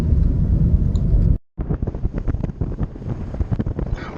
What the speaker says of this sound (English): There sure is plenty of wind.